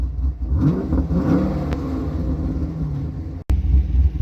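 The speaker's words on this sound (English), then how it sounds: "See if we can get her to give a little rev for us." Chevrolet Caprice PPV with a choppy-idle cam, its engine rumbling loud and close and rising into revs, with a brief sharp dropout near the end before the rumble returns.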